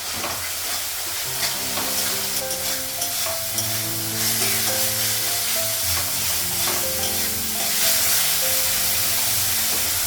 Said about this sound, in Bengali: মশলাটা একটু ভেজে নেব তারপর ফুলকপির আলুটা লাগাবো